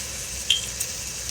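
Conecuh sausage sizzles steadily in a pan, a constant bright frying hiss with a couple of small pops and clinks, close and fairly quiet with no talking.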